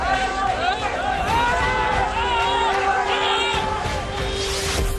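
An unruly mob during communal clashes in Jodhpur roars in a dense, continuous din of shouting voices and babble, with scuffling and crashing noises beneath, loud and close throughout.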